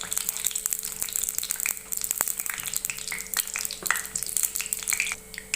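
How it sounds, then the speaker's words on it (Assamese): Dry red chili and whole cumin seeds sizzling in hot oil for a homemade chicken masala, a continuous crackling fry with sharp pops from the seeds, close and steady with no talking. "ভালদৰে ভাজিবলৈ দিব আৰু জিৰাখিনি ফুটিব দিব"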